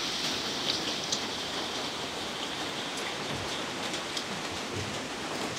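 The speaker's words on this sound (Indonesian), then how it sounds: "Wow, hujan-hujan ya." Steady rain falls outside a bakso eatery, a constant soft hiss of drops on surfaces at moderate level, with occasional louder drips and no talking.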